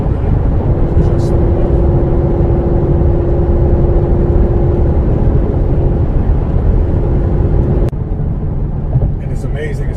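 Interior of a 700-horsepower Mercedes-Benz SL55 AMG under hard acceleration, a loud, steady engine roar filling the cabin for about eight seconds before dropping slightly in level, with no talking over it.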